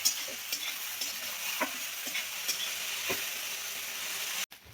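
Okra (bhindi) frying in a kadhai with half a lemon squeezed over it, giving a steady soft sizzle broken by faint stirring scrapes and small clicks of the spoon, then a brief drop to quiet at the end.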